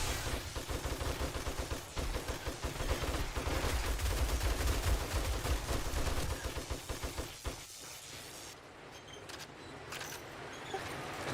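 Sustained rapid gunfire during a horde night in 7 Days to Die, loud dense volleys and bursts rattling for about seven seconds, then cutting off into quieter game ambience with faint scattered sounds.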